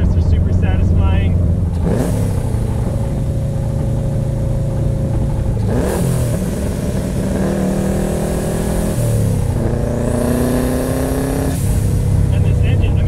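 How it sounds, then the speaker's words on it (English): A Subaru Impreza 2.5RS swapped with a JDM WRX turbo engine, driven in winter on all-season tyres, revs and blips through downshifts in a few rising and falling surges, loud and close from inside the cabin, with someone talking over it. "It revs up like that compared to the NA engines."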